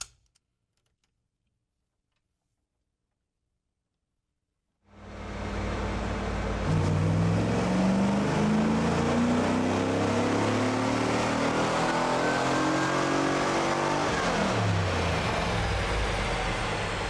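A 1994 Camaro with an LT1 V8 runs on a dyno after a few seconds of silence, then a loud sustained engine roar climbs steadily in pitch through a full-throttle pull before dropping off near the end.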